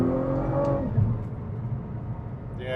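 A Nissan R35 GT-R with a test selector valve body pulls through its gears, engine note rising and dropping close by as it shifts, ending with a brighter high-pitched whine.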